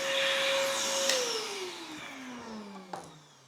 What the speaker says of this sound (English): I'm talking with the stupid vacuum cleaner on